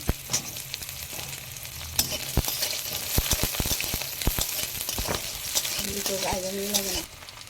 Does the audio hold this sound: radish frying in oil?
yes